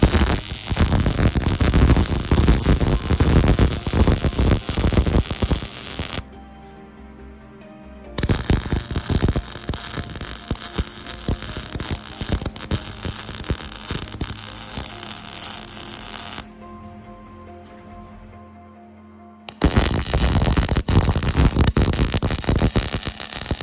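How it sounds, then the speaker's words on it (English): A seam is welded on 14 gauge steel in long, loud crackling bursts that stop for a couple of seconds at a time and then resume, over a constant low hum. "So I weld a little, move back and forth until I get a complete weld."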